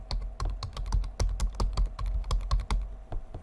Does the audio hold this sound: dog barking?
no